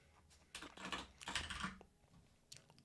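Keys clatter on a computer keyboard in quick, uneven bursts, close and fairly loud, with short pauses between runs of typing and no voices.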